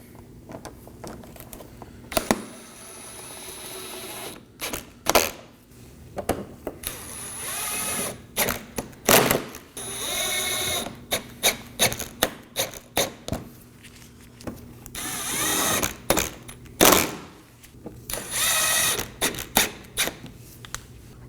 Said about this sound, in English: We're going to move under the vehicle and reinstall our 6 10mm fasteners.